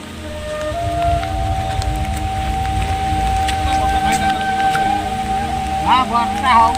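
Heavy rain falls steadily in a village, a dense continuous hiss with broadband patter throughout, loud and close, with a faint tonal hum running underneath and a few brief bird-like chirps near the end.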